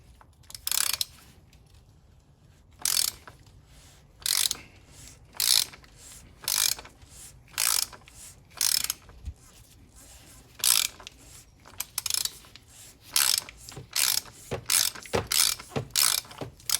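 A hand ratchet turns a socket on the oil filter housing of a 2015-or-newer Mercedes C300 (W205). Short bursts of crisp, close clicking repeat about a dozen times, with brief pauses between strokes.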